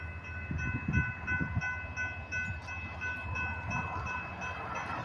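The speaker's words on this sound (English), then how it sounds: "here comes the train. It's blowing its whistle." A slow-moving freight train rolls through a road crossing in Old Hickory, Tennessee, sounding its horn in steady sustained tones over the low rumble and clatter of the cars, heard from a little distance.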